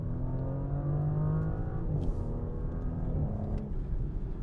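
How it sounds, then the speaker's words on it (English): A 2024 Audi S7's engine revs up and down steadily as its 8-speed automatic downshifts through paddle shifters, a continuous, moderately loud drone with pitch shifts at each gear change and no talk over it. "Getting pretty good downshifts from that 8-speed auto"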